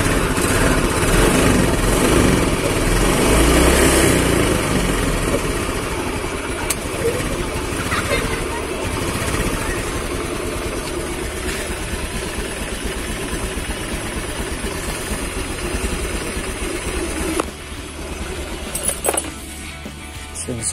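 A Honda Beat ESP scooter with a suspected faulty TPS sensor idles and sputters unevenly up close, its engine running roughly throughout while a person talks over it.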